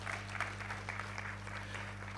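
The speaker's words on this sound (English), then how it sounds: "I think you can give Stephen a bigger hand clap than that." Audience applause at a tenth anniversary celebration, a brief, faint patter of hand claps over a steady low hum.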